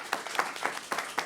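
Audience applause at a forum workshop on clinical trials, a short burst of scattered clapping with a few distinct claps standing out, moderately distant and fairly quiet.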